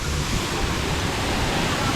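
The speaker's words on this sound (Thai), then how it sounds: "โอ้น้ำตกใหญ่มากๆเลย อันนี้น้ำตกปูมืนนะครับ" Pu Muen waterfall roars in a dense, steady rush of falling water, loud and close with no break or talk over it.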